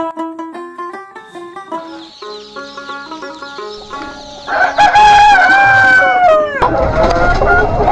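A tiger-breed rooster crows repeatedly, loud and close, with other chickens clucking in the farmyard, the calls growing denser and overlapping toward the end.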